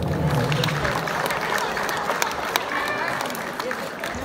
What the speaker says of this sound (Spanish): a quien brindémosles un fuerte y caluroso aplauso